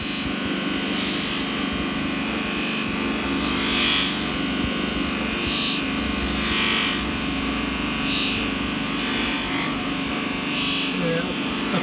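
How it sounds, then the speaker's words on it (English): A bench grinder buffs a polished piece on a stitched sisal wheel, making a steady whirring hum with rhythmic rubbing swells as the piece is pressed against the wheel. "I'll just touch that up on the bench grinder with the stitch sisal wheel"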